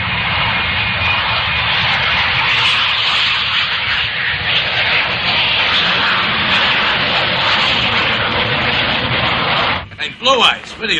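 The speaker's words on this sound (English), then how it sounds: "Why is the plane flying empty?" A plane's engines roar in flight during a film scene, a loud, steady droning rush that fills the whole stretch before a voice briefly speaks near the end.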